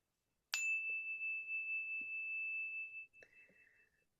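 A meditation chime is struck once and rings with a bright, pure, sustained tone for about two and a half seconds, then a softer second ring follows in an otherwise quiet room.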